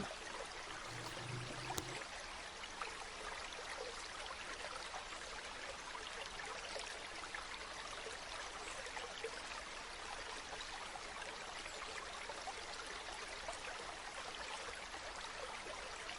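Steady rushing water flows continuously, a broad even wash of noise with no voices, as if standing beside a large moving river near Velugodu Dam.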